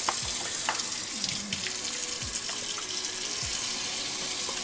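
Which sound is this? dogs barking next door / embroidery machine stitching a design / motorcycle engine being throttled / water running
water running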